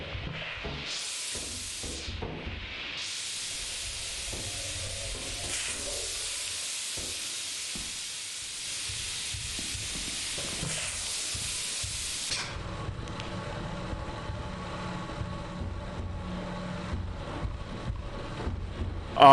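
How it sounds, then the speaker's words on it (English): Loud, steady steam hiss in the game Lethal Company fills the first twelve seconds, briefly dipping near the start, then gives way to quieter rumbling ambience. "Which mean there's steam somewhere"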